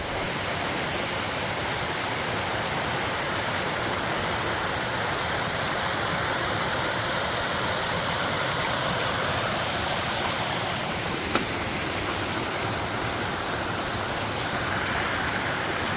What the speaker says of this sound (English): You can watch the river.